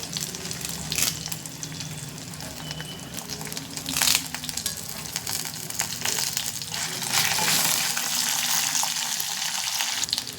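Red chillies and curry leaves frying in oil, a continuous crackling sizzle that swells louder toward the end, with a couple of brief scraping knocks, close and without talk.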